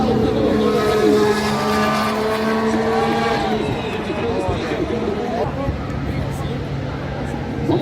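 Formula 1 cars at Interlagos during 2023 qualifying: loud, high-pitched engines scream and rise and fall in pitch as they pass, overlapping one another under a steady crowd din, with a voice speaking over them.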